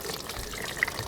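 Engine coolant spilling out of a Corvette Z06 as its engine is pulled, heard as a steady, quiet wash of running liquid with one brief brighter splash near the end.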